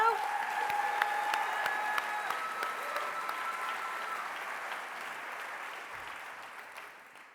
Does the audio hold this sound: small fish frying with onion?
no